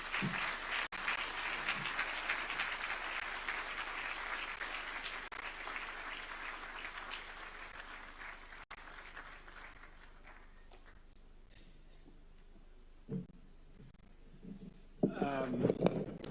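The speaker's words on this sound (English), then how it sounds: "I think the round of applause you gave him is not sufficient." Audience at a Christian gathering at the Safari Park Hotel in Kenya applauding, a full sustained round of clapping that gradually fades out, followed by a few scattered sounds and a brief voice near the end.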